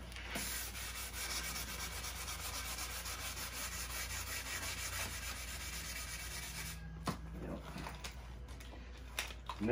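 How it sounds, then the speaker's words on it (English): 220-grit sandpaper on a flexible sanding block scrubs back and forth across a blond pickled oak piano cabinet in a steady, close rasping rhythm, pausing briefly near the end before a few more strokes. "This is just 220 grit paper on a flexible sanding block."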